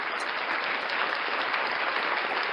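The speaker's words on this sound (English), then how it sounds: "Round of applause for Doc Leno" A studio audience on a breakfast show keeps up steady, dense applause that stays even and fairly loud throughout.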